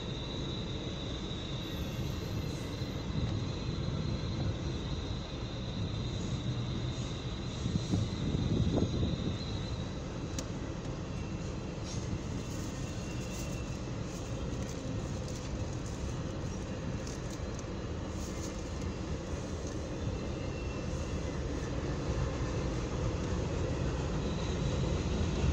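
A BNSF eastbound intermodal freight train rolls past in the evening, a steady loud rumble of wheels and cars with faint squeals, holding constant from start to end with no voices.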